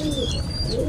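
Racing pigeon cooing close by, a soft low throaty coo carried over a steady background hum.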